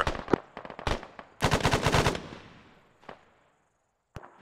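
Bursts of machine gun fire in the military video game ArmA 3, a few short bursts then a longer loud rattling burst that rings out, followed by scattered single shots at a distance.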